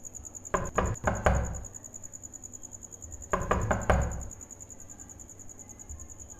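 Knocking on a door in a Tamil short film, two quick bursts of four or five firm raps separated by a pause, set against a steady chirping of crickets.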